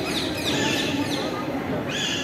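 Several birds chirp and call continuously inside a netted aviary on a jungle safari in Gujarat, a busy layered chorus with no clear pauses, fairly close and steady throughout.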